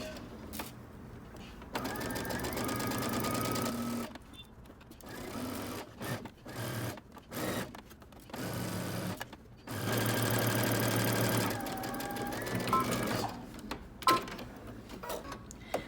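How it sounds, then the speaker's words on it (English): A sewing machine stitches a seam with a 5/8 inch seam allowance, running in several bursts of rapid mechanical chatter separated by short pauses, close and clear with no talking. "go to your sewing machine, and you're just going to stitch around using 5/8 of an inch seam allowance"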